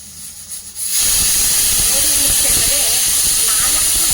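Loud, continuous high hiss of a pressure cooker whistle venting steam while mutton biryani cooks, starting abruptly after a second of quieter kitchen sound and holding steady to the end.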